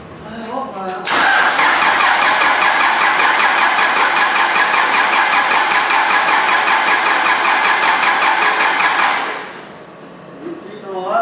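A Cummins 4BTA 3.9 diesel in a Versatile 276 tractor fires up for the first time. It cranks, catches and runs loud and steady for about eight seconds, then shuts off, with people talking before and after.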